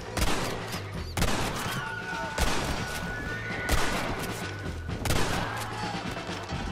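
Repeated gunfire bursts in Red Dead Redemption, sharp shots recurring every second or so amid a busy Western soundscape with a horse whinnying and hooves clopping.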